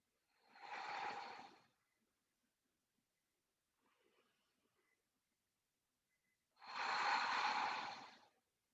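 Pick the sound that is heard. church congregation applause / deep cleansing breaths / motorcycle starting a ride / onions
deep cleansing breaths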